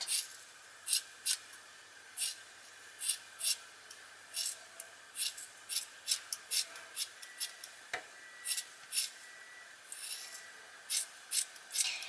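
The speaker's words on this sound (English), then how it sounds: "And then you're just going to get the scissors and like do a little haircut." Scissors snip repeatedly in quick, irregular bursts, crisp and close, trimming a yarn pom-pom with a soft background hiss.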